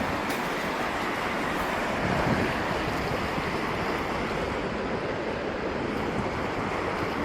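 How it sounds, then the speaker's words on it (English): Ocean surf rolling onto a beach near Charleston, South Carolina, a steady broadband wash of breaking waves with light wind across the microphone, continuous and fairly loud throughout with no voices. "Okay, see, those are just waves."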